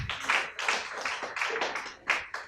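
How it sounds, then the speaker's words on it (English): A small audience at a town hall meeting with private school owners claps in uneven bursts, close and fairly loud, with a few separate waves over a couple of seconds. "Clap for Oga."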